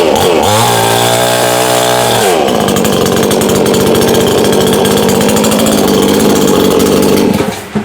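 A 22-inch, 62cc petrol tree-cutting chainsaw runs loud and close, revving up to a high steady whine and then holding at a rough, buzzing roar throughout.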